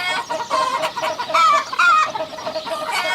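Several chickens cluck and murmur close by, with a few higher drawn-out squawks rising above the steady clucking.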